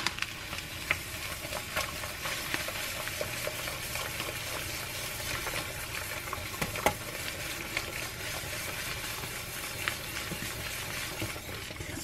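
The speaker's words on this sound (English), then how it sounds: "I'm just going to keep adding and mixing until I get the consistency that I want" Potato flakes being stirred into a potato mixture, a steady soft scraping and squishing with faint sizzle-like crackle, continuous and close, with no talking.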